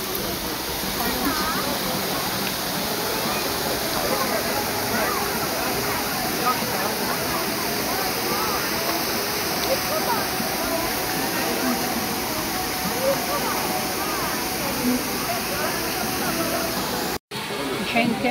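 Khalkhal waterfall in Oguz, Azerbaijan, a constant loud rushing roar of falling water, broadband and unbroken for the full stretch, with a brief dropout near the end.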